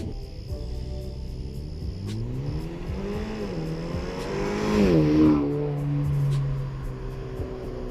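A straight-piped Honda Accord 2.0T Sport makes a night flyby, its turbo four-cylinder rising in pitch as it revs and accelerates, swelling loudest as it passes close, then dropping in pitch as it pulls away.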